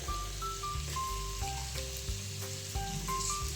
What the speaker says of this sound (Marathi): त्याला मस्तपैकी असं फ्राय करून घ्यायचं, कारण की लसूण अद्रक आता खाली चिटकायला सुरुवात होईल.